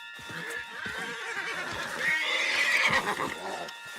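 A horse in the video game Red Dead Redemption 2 whinnies loudly and at length, swelling in the middle, amid clattering action noise and background voices.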